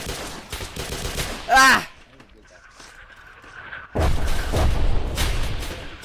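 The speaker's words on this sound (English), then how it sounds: "Keep firing, keep firing! Fire, fire, fire!" Rapid gunfire from a Roblox shooter game rattles in dense bursts, drops away briefly, then returns as heavy sustained firing, with a voice crying out over the shots.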